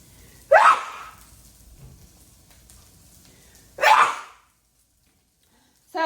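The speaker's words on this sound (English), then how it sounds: "I feel like I gotta sneeze." Two sharp, explosive sneezes burst out a few seconds apart, close and loud, each followed by a brief fading breath, with quiet stretches between them.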